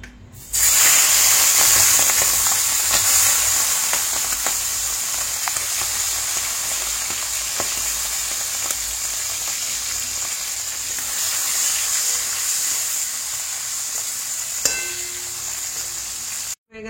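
Tangra fish frying in hot oil: a steady, dense sizzle with crackling and spitting that continues for well over fifteen seconds, close and fairly loud, with no voices.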